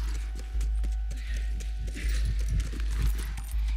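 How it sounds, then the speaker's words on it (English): Horse hooves clip-clopping in The Last of Us Remastered on PS5, a series of soft, dull thuds in an uneven walking rhythm, fairly quiet and close, with no voices over them. "Just get the horse."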